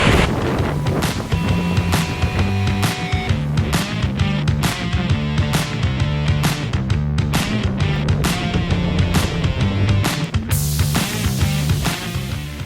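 Strong wind gusting at 20 to 30 miles per hour on a hiking trail switchback on the way up to Angel's Rest in Oregon, with loud, continuous buffeting across the microphone and repeated sharp rumbling bursts, with no talking.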